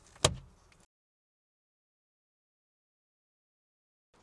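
A glove box on a 2025 Tesla Model Y closes with one short, firm thump and a brief rattle, then silence.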